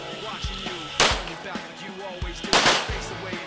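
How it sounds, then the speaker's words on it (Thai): A pistol fitted with a mounted flashlight fires during a nighttime combat shooting drill. Two loud, sharp reports stand out about a second and a half apart, with fainter pops between them, over a busy outdoor background. "ปืนประกอบไฟฉาย5นัดติดต่อ"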